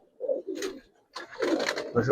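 Caged Giribaz pigeons call nearby in a few short, soft cooing bursts separated by brief silences.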